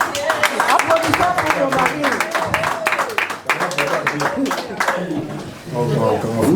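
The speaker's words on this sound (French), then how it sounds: "Je vous demande d'applaudir pour lui." An audience at a UDPS gathering applauds a speaker's husband with a steady patter of clapping that runs under loud, continuous talking.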